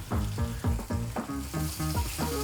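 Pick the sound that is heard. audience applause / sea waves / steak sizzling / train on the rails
steak sizzling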